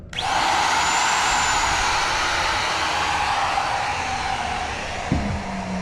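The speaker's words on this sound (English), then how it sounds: "each time when I go to turn on a router, I want to hold onto it tight" A woodworking router switches on and runs with a steady, loud high whine that holds for several seconds, with a brief knock near the end and no voices.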